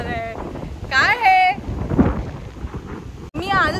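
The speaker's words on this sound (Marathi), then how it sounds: "इतका सुपर वारा आहे, इतका वारा आहे, खूप वारा आहे" Strong wind buffeting the microphone outdoors on a family day out, a low rumbling roar that swells and drops under someone talking.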